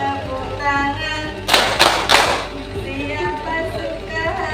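A group claps in three quick bursts in the middle of a sung chant, with voices singing before and after the claps.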